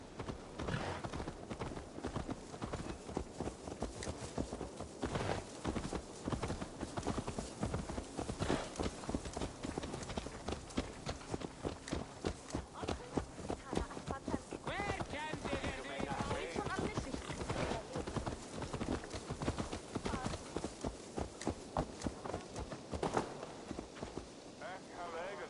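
Horse hooves clip-clop in Assassin's Creed Valhalla, a steady rhythmic trot of close, loud hoofbeats that carries on throughout, with game voices speaking over part of it.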